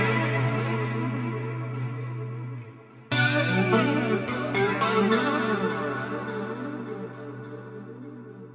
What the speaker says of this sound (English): I was messing about with the controls of the flanger